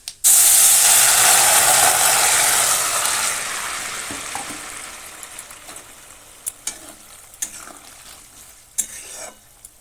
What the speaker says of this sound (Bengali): এবার তরকারিটা ঢেলে দেবো